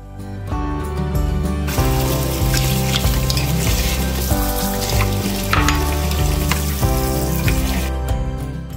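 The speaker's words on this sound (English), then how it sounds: "The longer the peppers and onions cook, the sweeter they get" Peppers and onions frying in a pan give a steady, busy sizzle that runs throughout at close range, with a low musical tone underneath and no voices.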